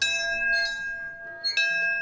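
A man vocally imitates a ringing bell, like a small bell hanging at a window, with sustained metallic-sounding tones in two close strikes, the second brighter and louder.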